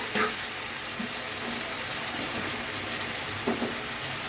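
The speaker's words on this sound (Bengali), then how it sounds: "আলুগুলো কষানো হয়ে গেছে, এখন মাছ দিয়ে আরেকটু কষিয়ে নিব।" Boal fish sautéing with potatoes in a pan, a continuous close sizzle with occasional clinks and stirring taps, no voices.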